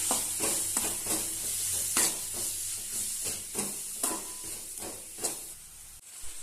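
Onions and chicken masala sauté in a pan, a continuous sizzle and hiss broken by repeated scraping stirs at roughly regular intervals, close and fairly loud with no talking.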